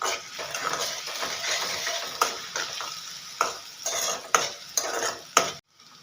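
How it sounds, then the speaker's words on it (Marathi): Chopped onion frying in oil in a pan over high heat for cabbage paratha, a continuous crackling sizzle broken by sharp spatula scrapes and clinks against the pan, ending abruptly. "कांदा आपल्याला छान असा पिंकिश ब्राऊन कलर येऊस्तोवर फ्राय करून घ्यायचा आहे"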